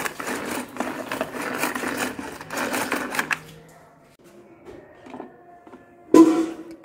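A manual onion and vegetable chopper is worked by hand, giving a quick run of close, rapid rattling clicks that stops, followed by quiet handling noises and one sharp final clack.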